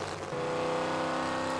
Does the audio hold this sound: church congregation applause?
no